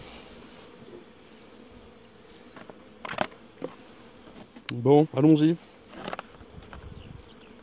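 Honey bees buzzing around beehives, with brief loud buzzes passing near the microphone among quieter hum, and a voice speaking briefly.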